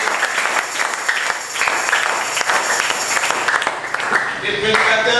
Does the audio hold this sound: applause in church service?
yes